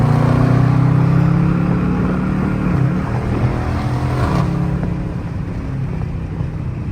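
A Dodge Charger R/T accelerating hard from about 50 mph in a sustained pull, its engine droning loud and steady at high revs with a slight shift-like dip midway, heard from inside the car.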